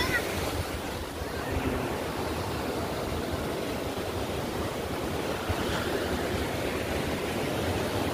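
Sea waves washing onto a beach on the Diveagar coast, a steady broad roar of surf mixed with wind buffeting the microphone, continuous and fairly close.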